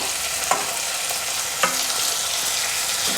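Onions and tomatoes sauté together in a pan for chicken gravy, with a steady close sizzle and a couple of sharp clacks as they are stirred, and no talking.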